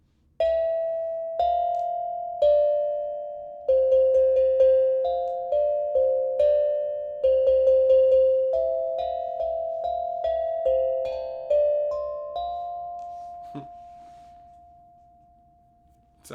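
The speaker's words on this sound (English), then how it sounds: "Sounds like grandma's old doorbell." An old ding-dong doorbell chimes repeatedly, a clear sequence of ringing two-tone strikes, each decaying, before a final long tone fades out.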